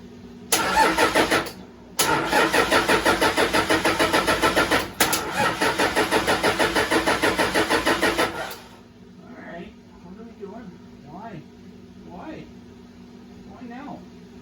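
A Toyota 1PZ diesel engine cold-starts, cranking briefly and then catching into a loud, rough, pulsing run with a couple of stumbles before it cuts out, followed by quieter thumps and a voice talking.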